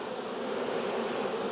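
Honeybees hum in a dense, steady buzz around an open hive during a hive inspection, close and continuous with no voices.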